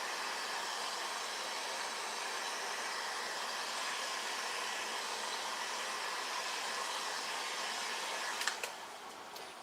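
A heat gun blows a steady, close roaring hiss over epoxy on a neon tumbler, continuous and unbroken, with a small click near the end.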